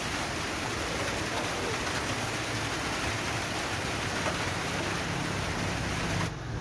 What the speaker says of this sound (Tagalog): At tapos, lagi na lang umuulan.